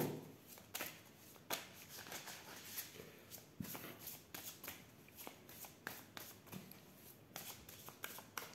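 Oracle cards being shuffled by hand, a quiet series of soft riffling flutters and card slaps repeating irregularly, close and with no talk.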